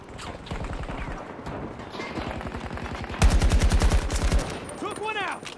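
Rapid bursts of AK rifle fire in Battlefield 2042, loud and close, building to a dense sustained volley, with a voice talking faintly beneath.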